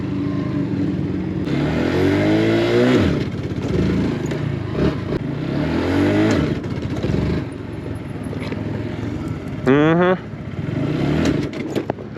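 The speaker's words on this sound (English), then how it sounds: "I'll try a wheelie real quick." Motorcycle engine revving hard through repeated rising throttle bursts while the rider pulls a wheelie on a group ride to a bike meet, loud and close, ending in a sharp rev sweep.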